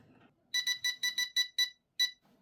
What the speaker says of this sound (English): you can also adjust the alarm tone